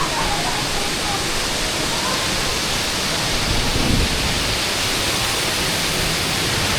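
The waterfall at Wawa Dam in Rizal gives a constant loud broadband roar of falling water, steady and unbroken throughout, with no clear voices above it.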